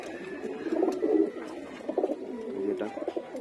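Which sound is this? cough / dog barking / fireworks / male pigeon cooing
male pigeon cooing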